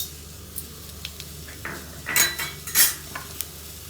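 Coriander seeds dropped into hot oil in a pan give a few sharp crackling bursts over faint background clatter, with a brief utensil clink near the end.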